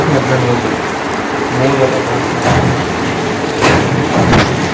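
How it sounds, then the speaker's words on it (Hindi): Heavy rain pours down in a continuous broadband hiss, with a few brief louder splashes or knocks and a voice speaking faintly under it. "बारिश हो रही है बहुत ही तेज़"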